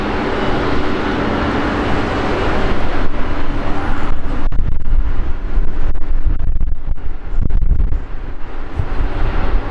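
An Airbus A380 airliner roars at London Heathrow, a loud, sustained broadband jet rumble that swells midway, with buffeting wind noise on the microphone and no talking.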